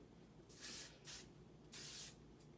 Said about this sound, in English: You just wanna kind of solidify it with our spray.